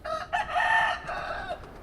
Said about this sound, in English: you can even hear the muffled sound of a lone rooster crow